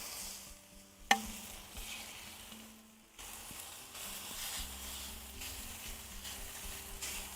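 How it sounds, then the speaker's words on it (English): Carnitas frying and crisping in a pan, a low continuous sizzle with a sharp clank early on and stirring noises, close but quiet with no talk. "Let these cook off for a couple seconds."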